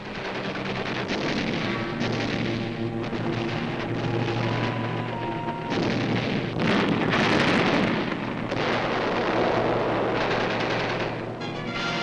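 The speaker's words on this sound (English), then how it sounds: "Marines attack enemy posts directly beneath them with bullets, hand grenades, and charges of explosives" Combat gunfire and explosions from Marines attacking enemy posts below them with bullets, hand grenades and explosive charges on Peleliu, heard as a loud, continuous wartime newsreel soundtrack of dense bursts and blasts throughout.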